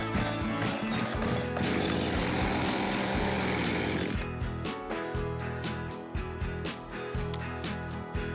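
A Baumr-AG PRO chainsaw that won't start, after a carburettor clean, is cranked and sputters into brief rough engine running, then falls back to uneven mechanical clatter and pulls. The sound is loud and busy, with no talk.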